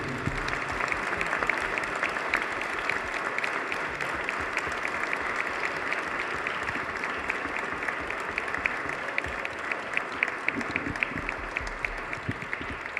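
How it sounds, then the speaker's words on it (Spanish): At a book presentation during a book fair, an audience claps steadily for a long stretch, a continuous crowd of hands with crisp individual claps rising above the mass. "Y les pido un aplauso también para todos ellos y para Toño Velasco Piña"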